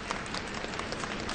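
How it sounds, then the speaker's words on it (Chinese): Steady applause fills the room at the Wenchang launch site during the maiden Long March 5 launch, a continuous wash of many hands clapping at moderate, even volume. "我们看到现场传来了掌声"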